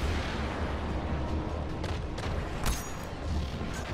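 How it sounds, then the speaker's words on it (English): Explosive boom and rumbling blasts of a grenade and gunfire in the shooter game Destiny: Rise of Iron, loud and dense throughout with a sharp burst near the middle. "I'm amazed I didn't kill myself with a grenade there."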